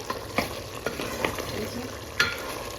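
Mutton being stir-fried (kosha) in a pan, with a steady close sizzle and occasional sharp scraping stirs.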